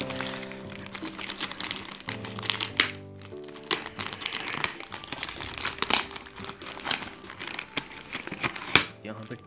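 Plastic packaging on a low-cost mystery box being torn and opened by hand, with continuous close crinkling, crumpling and sharp rustles throughout, and someone talking in the background.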